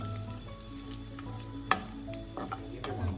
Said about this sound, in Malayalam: ഉള്ളി വാട്ടിയെടുക്കണം.